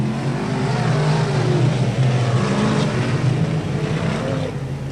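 Race cars charging into turn 1 during a championship heat, a dense blended engine roar from several cars at a distance, steady and loud throughout the clip.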